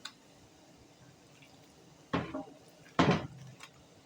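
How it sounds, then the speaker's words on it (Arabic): Chicken pieces dropped into a hot pan of wilted onions, two loud sizzling bursts about a second apart, then a fading crackle over quiet kitchen background. "انا هحط عليه الفراخ"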